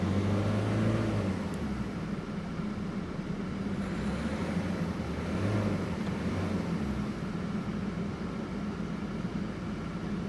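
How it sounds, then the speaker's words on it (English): Engine of a 2008 Ford Focus with an electrical charging fault, heard as a steady low drone with a couple of brief rises in pitch, moderately loud and alone without talk. "But maybe if you rev it, it'll come back up."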